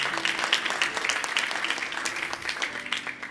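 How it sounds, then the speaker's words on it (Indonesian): Applause from a small congregation of theology students and ministers in a church, uneven, sparse clapping with distinct individual hand claps pulsing irregularly over a few seconds, fairly close and moderately loud. "Anda di rumah boleh tepuk tangan dan di sini juga boleh tepuk tangan."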